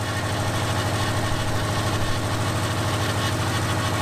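A Subaru EJ25 engine idles just after firing on the first crank, out of gear, with a faint rattle. The steady, close, evenly pulsing rumble runs throughout with no talking.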